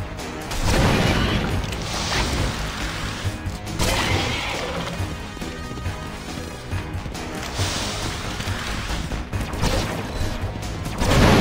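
Explosions and crashing blasts from the video game MIB Galaxy Defenders, at Riza's Fortress, come in dense repeated bursts over a thick, continuous barrage of game effects.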